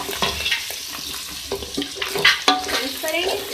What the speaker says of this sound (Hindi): इसकी भुनाई करेंगे। इसके साथ ही मैं इसमें ऐड करूँगी तेज पत्ते के टुकड़े।